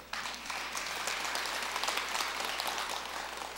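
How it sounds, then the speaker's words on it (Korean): Faint, steady applause from an audience at a Buddhist dharma talk at Jogyesa temple, a soft wash of many hands clapping evenly for a few seconds with no voices over it. "박수 한번 쳐요."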